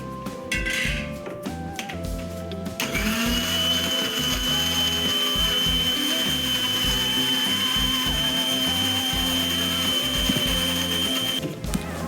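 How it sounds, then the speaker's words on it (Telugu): A mixer grinder blending a banana milkshake whirs loudly and continuously at close range for several seconds, starting after a brief rattle and stopping abruptly near the end. "కొంచెం పాలు పోసుకొని మిక్సీ పట్టుకోవాలి."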